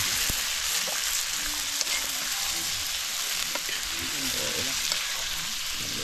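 Garlic stirred and fried in a pan gives a steady, dense sizzle throughout, with a few small clicks and scrapes of the stirring utensil layered over the constant crackle.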